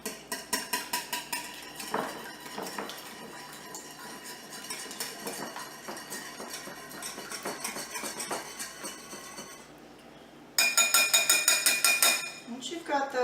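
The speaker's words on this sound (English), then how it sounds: "now we're going to get our eggs and our butter well mixed" Eggs and butter are beaten in a bowl for pecan pie muffins, a busy, rhythmic clatter of utensil against the bowl, growing louder and brighter toward the end.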